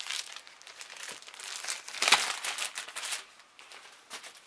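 Plastic wrapping crinkles and crumples as it is pulled off a newly bought dress, a close, continuous rustle with sharper crackles and a brief tearing burst midway.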